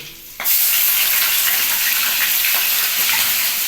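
Chopped onion hits hot oil already tempered with cumin and garlic, bursting into a loud, steady sizzle after a brief quieter moment, then crackling evenly and close throughout.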